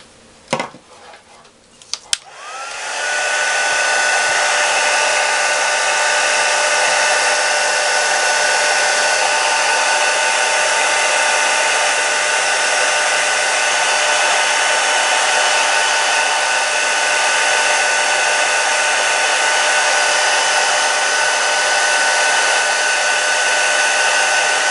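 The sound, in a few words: heat tool heat-setting green embossing powder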